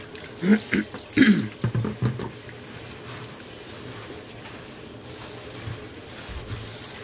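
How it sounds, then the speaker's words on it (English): Hot and cold water from a kitchen tap runs into a sink, with a few louder splashes and clatters at the start, then settling into a steady, fairly quiet flow. "pour it into the sink and switch on my hot and cold water just to keep it warm."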